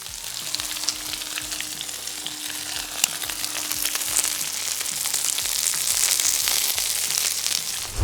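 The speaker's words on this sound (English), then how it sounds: "I'm gonna let you in on some sounds of the griddle" Steady crackling sizzle of sausage and potatoes frying on a hot Blackstone griddle, with scattered pops and spits, growing slightly louder toward the end.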